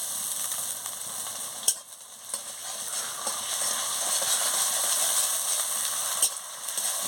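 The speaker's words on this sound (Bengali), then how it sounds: "ভালো করে ভেজে নিচ্ছি।" Chopped onion with ginger and garlic paste fries in a pan for a fish-head cabbage dish. The close, steady sizzle is broken by a few clatters of stirring.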